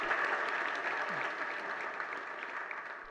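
An audience at a Jain monk's religious discourse claps in a steady wash of applause that fades gradually over a few seconds, with no talking.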